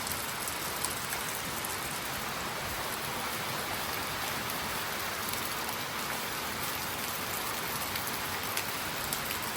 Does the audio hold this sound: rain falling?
yes